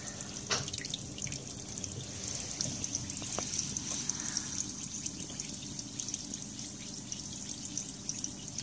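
Clamshell and truffle bath fizzies with lavender and rose botanicals fizz and melt in bath water, giving a steady close bubbling hiss with faint drips and trickles throughout, no voices.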